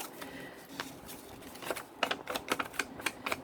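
Scissors cut through ordinary A4 copier paper in a quiet room: scattered crisp snips and clicks, sparse at first, then coming in a quicker irregular run near the end.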